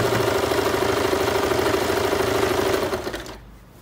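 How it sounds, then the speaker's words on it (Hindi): A sewing machine stitching folded fabric for homemade palazzo pants, a close, steady mechanical whirring hum that runs evenly for about three seconds, then winds down and stops. "फोल्ड करने के बाद अब हम इस पर स्टिच कर लेंगे।"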